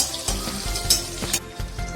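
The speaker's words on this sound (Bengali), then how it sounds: "দেখো ডিমগুলো একদম কড়া করে ভাজা হয়ে গেছে।" Eggs fry hard in a hot pan, giving a brief, steady close sizzle broken by a few sharper scraping or spattering bursts.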